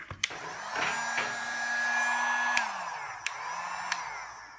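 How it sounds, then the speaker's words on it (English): A heat gun blows hot air at a near, steady whine and rush that holds for a couple of seconds, then drops in pitch and winds down, with sharp clicks and taps at the start and between bursts. "This is my heat gun."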